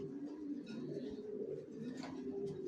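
Racer pigeons coo steadily in a cage, a continuous close, moderately loud rolling murmur with a few faint chirps mixed in.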